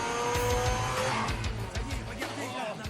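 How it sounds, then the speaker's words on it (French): Racing cars from the Initial D anime arrive on a mountain road, engines droning and shifting pitch while tires squeal in short bursts, loud and close throughout with a rushing, busy mix behind them. "Hé, regardez! V'là les voitures!"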